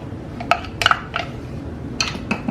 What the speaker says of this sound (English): Stir this in here.